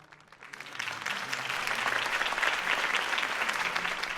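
A crowd in Batman: The Telltale Series applauds after Harvey Dent's campaign speech, a dense wash of clapping that rises quickly after a quiet start and holds steady, heard at a moderate distance.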